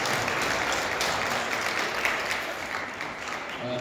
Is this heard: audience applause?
yes